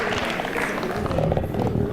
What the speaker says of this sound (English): Clap for me and her.